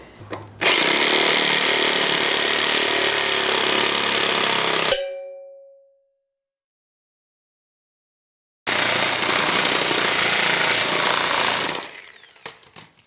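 Cutting slits through a leaf spring metal sleeve with a loud, harsh power tool, in two long continuous bursts of grinding, buzzing noise separated by a few seconds of silence.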